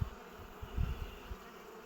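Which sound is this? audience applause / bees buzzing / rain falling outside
bees buzzing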